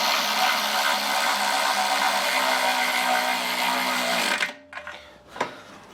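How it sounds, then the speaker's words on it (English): A Milwaukee power ratchet whirs continuously as it drives bolts while working on a mower, a loud steady mechanical buzz that cuts off abruptly, followed by a few clicks and clanks of handling. "This Milwaukee ratchet goes down to 35 foot-pounds."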